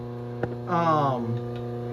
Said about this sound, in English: Let me turn off the phase converter so we can hear.